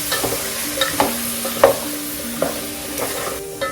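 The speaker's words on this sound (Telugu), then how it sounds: "ఇప్పుడు స్టవ్ని లో ఫ్లేమ్లో పెట్టేసి ఒకసారి బాగా కలిపేసుకుందాం" Vegetables for Andhra sambar, including small onions, radish and brinjal, are stirred in a pot on low flame. Close, rhythmic scraping strokes sound over a gentle sizzle.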